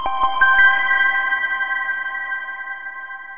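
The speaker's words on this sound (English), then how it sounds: "The lead instrument in the initial boot sound is a typical Bell-style synth." PlayStation Portable startup boot sound, led by a bell-style synth: a few quick plucked tones at the start, then a bright sustained chord that rings on and slowly fades, alone with no voices.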